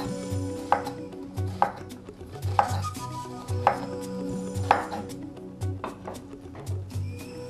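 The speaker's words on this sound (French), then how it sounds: "Maintenant, nous allons découper des oignons, également en tout petits morceaux." A knife chopping onions into small pieces on a cutting board in a kitchen, with regular sharp thuds about once a second, close and clear with no talking.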